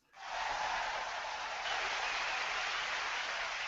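Canned crowd applause sound effect played from a soundboard box at a live show, a dense, steady wash of clapping from a big crowd that swells in quickly and holds loud and even throughout.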